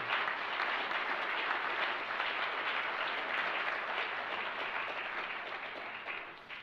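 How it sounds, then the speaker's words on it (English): An audience at the Raisina Dialogue 2024 policy conference applauds a panel, a dense, steady wash of clapping that fills the hall evenly and tapers slightly toward the end, with no voices over it. "I think it would be fair to applaud them for supporting this dialogue"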